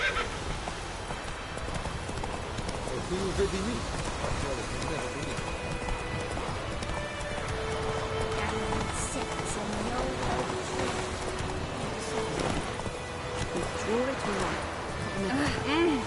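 Horse hooves clip-clop at a steady run through the whole stretch in The Witcher 3, joined by an occasional whinny, with character voices talking over the hoofbeats.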